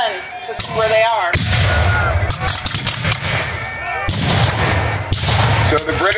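Musket fire at an 1812 battle reenactment skirmish outdoors in Jalapa, Indiana: several loud, booming volleys and scattered shots with long rumbling tails, overlapping with a voice talking.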